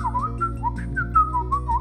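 Whistled melody standing in for a cartoon dinosaur's musical sausage teeth, a wavering tune of bright notes rising and falling over a steady low background hum, alone without talk.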